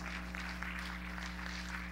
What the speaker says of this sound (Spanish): Dale un aplauso a Cristo, amado.